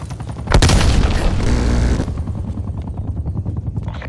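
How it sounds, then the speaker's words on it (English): A frag grenade goes off in Call of Duty Black Ops Cold War multiplayer with a loud, close blast that roars for over a second before trailing into a rumbling, chopping drone like a nearby helicopter. "Enemy frag grenade."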